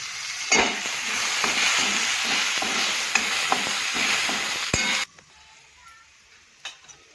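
Potatoes and green garlic frying and being stirred in a pan, giving a steady close sizzle with scraping ticks for about five seconds, then quiet with a few soft clicks.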